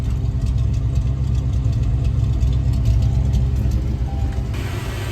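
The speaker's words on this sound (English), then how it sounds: "Exhaust sounds good right now" A Foxbody Ford Mustang idles steadily close by, a low, even exhaust rumble with a faint high whine above it, no voices.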